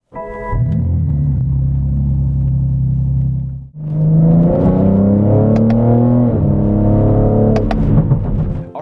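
A lowered BMW G80 M3 drives along with a loud, continuous engine rumble close by. The tone steps up after a brief dip midway, as if shifting gears, and no one speaks.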